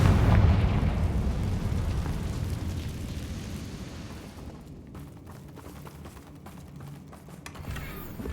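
A Confringo spell explodes in the Hogwarts Legacy video game, opening with a loud, heavy blast that slowly fades into a rumbling, crackling tail.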